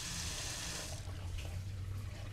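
Steady rush of water running from a shower, close and continuous, with a low hum beneath it.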